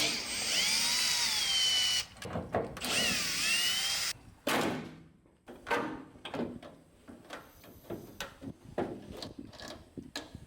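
Power drill loosening and backing out bolts on a 2020 Chevy Silverado RST during a headlight bulb job: long whirring runs at first, then short bursty triggers and clicks of parts being handled, close and fairly loud.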